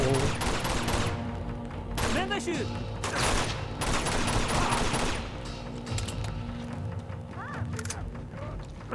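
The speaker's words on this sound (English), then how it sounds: "Oh, I thought that was a rifle." Rifle gunfire in the video game Uncharted 2: Among Thieves, rapid bursts of shots and clattering mechanical impacts spread across the whole stretch, loud and dense with brief gaps between volleys.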